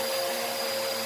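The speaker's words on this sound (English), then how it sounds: "hubby decided that he would vacuum for me" A household vacuum cleaner runs steadily indoors with a constant motor whine, close and continuous with no talk.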